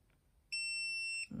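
Gemstone tester checking a garnet gives one sustained high electronic beep lasting under a second, clear against a quiet background, followed by a brief soft knock.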